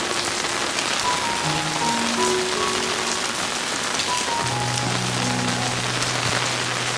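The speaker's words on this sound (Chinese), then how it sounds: "这不是天下雨了吗？" Steady heavy rain patters on a surface in a rural village, a dense even hiss throughout, with faint tonal hums drifting in the background.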